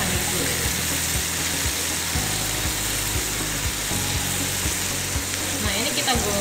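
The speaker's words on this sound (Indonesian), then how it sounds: "Nah, ini kita goreng sampai benar-benar kering nih" Chicken skin seasoned with salt, pepper and garlic powder fries in hot oil until crisp, giving a continuous dense sizzle and crackle with a low rhythmic thumping underneath.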